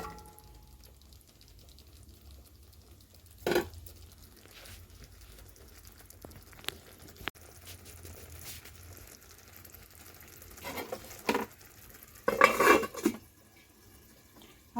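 Potatoes stirred in a pan with hot water: quiet background simmering, broken by a few sharp scrapes and clinks of a utensil against the pan, with a cluster of clatter near the end and no speech.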